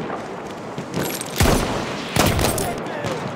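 Gunfire from an enemy machine gun in the Battlefield 1 video game: two loud broadband bursts of shooting over a steady battlefield din.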